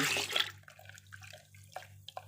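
SLS being poured into a nitrosol solution while making lye-free liquid soap at home, heard as a short close liquid pour and splash at first, then faint scattered drips and small clinks.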